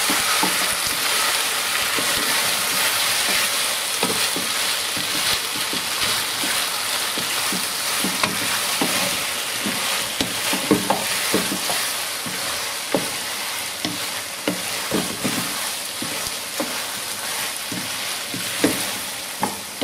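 Kung pao chicken with drained pineapple sizzling in a hot pan, a steady frying hiss broken by scraping stirs and clatters of the utensil against the pan, with no talking.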